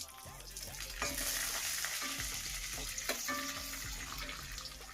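Dried red chillies and curry leaves dropped into hot oil in a pan, a steady close crackling sizzle with stirring clatter and scraping throughout, fairly loud.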